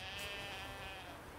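A sheep bleats in the video game The Witcher 3: Wild Hunt, a single drawn-out, wavering cry heard close and fairly quiet, alone without talk.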